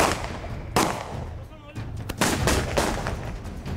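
Gunfire exchanged between both sides during a police raid, several sharp loud bangs spaced irregularly over a noisy outdoor background.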